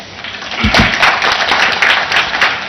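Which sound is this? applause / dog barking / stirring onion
applause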